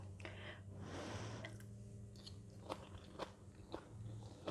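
Crunchy bites and chewing of stir-fried prawns with vegetables, rice and Thai chili jam gravy, close and crisp, with several sharp crunches spaced through the mouthful over a steady low background hum.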